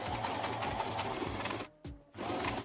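A sewing machine stitching bias binding runs in a rapid, even mechanical whir and clatter, stops briefly for a short pause, then starts up again close to the microphone.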